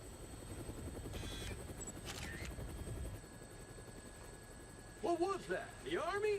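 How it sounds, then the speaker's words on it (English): A helicopter in the video game Dead Rising Deluxe Remaster makes a steady rotor drone throughout, with voices and game sounds cutting in near the end. "Looks like taking a helicopter was the way to go."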